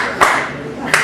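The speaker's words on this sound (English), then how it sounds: "I hear like one person clapping" A lone person clapping at a CWA wrestling event, two sharp separate claps about a second apart against a murmuring crowd.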